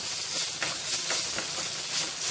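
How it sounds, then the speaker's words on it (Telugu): Ginger garlic paste fries in a pan with a loud, close, continuous sizzle and hiss, broken by faint scraping stir sounds. "ఇందులో కొద్దిగా అల్లం వెల్లుల్లి పేస్ట్ వేసుకోవాలి లైట్గా, ఇది కొద్దిసేపు ఫ్రై చేసుకోవాలి."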